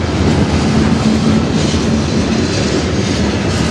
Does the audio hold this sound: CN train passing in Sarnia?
yes